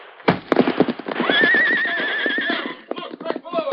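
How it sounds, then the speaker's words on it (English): A great white stallion whinnies loudly in a radio drama: a long, bright neigh rising and wavering over rapid hoofbeats, close and dramatic, with a brief burst of trotting hooves following. "Knowing that Silver, his great white stallion, possessed instincts that were infallible in an emergency"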